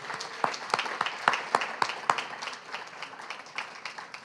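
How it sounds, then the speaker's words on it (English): An audience at a poetry reading gives a round of applause, with several sharp, distinct claps standing out near the front over a steady patter of hands that slowly thins out. "One more round of applause for Yanyi."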